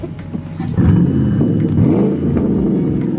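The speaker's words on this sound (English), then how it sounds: "no mufflers, it's all pipes. This thing is pretty freaking loud." A 400hp Mustang GT running straight pipes with no mufflers revs hard and loud, a deep burbling roar that surges and falls through several throttle blips, close by.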